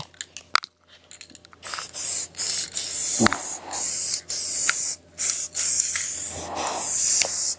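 A can of blue toner sprays over a sealer coat during furniture refinishing, making a series of about half a dozen short, close hissing bursts with brief pauses between them.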